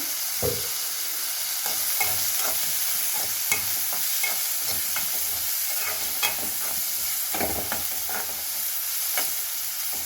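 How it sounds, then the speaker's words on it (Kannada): Onion and spice seasoning for a mung bean and drumstick leaf stir-fry frying in a pan, a steady close sizzle broken by the scrape and clink of a spoon stirring. "ಸ್ವಲ್ಪ ಫ್ರೈ ಆಗಲಿ. ಫ್ರೈ ಆಗ್ತಾ ಇದೆ."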